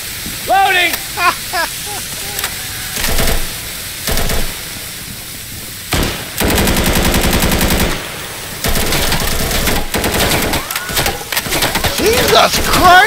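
Heavy automatic gunfire from the video game Insurgency on the map Verticality, with repeated long bursts and scattered single shots at close range, mixed with shouting players talking over the firefight.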